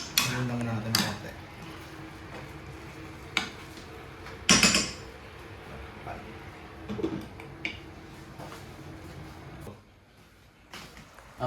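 Chicken adobo stirred in a cooking pot, with sharp metallic clanks and scrapes of a utensil against the pot at irregular moments over a quiet simmering background, while someone speaks at times.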